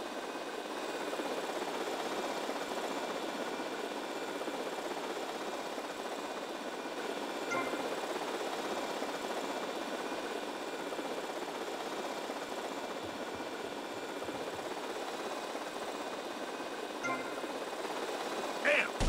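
A toy RC helicopter in GTA Vice City gives off a steady, even buzz with a faint high whine, holding at constant loudness throughout, with no talk over it.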